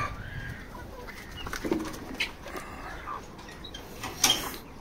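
Chicks in a poultry shed, roughly twenty-five to thirty of them, chirp and peep in scattered bursts over a low background murmur; a few calls stand out louder near the end.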